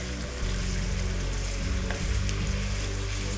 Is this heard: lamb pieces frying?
yes